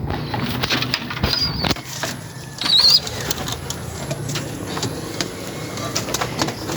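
Breeder pigeons in a loft give soft coos and bursts of wing flapping, with scattered rustling and knocks throughout.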